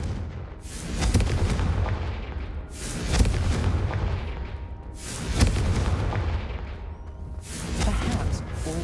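Repeated heavy booming blasts from the Confringo blasting curse in Hogwarts Legacy, four large explosions spaced about two seconds apart, each with a sharp crack and a rumbling tail over a continuous low roar.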